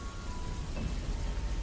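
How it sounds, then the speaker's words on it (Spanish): Steady rain falling on a December night, a dense even hiss with no pauses across the short stretch. "Llovía."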